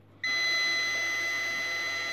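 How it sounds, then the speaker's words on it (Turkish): A refrigerator's open-door alarm gives a steady high electronic beep that starts abruptly and holds continuously, loud and close, with no talking. "Kapağını açtığımız zaman alarm çaldı"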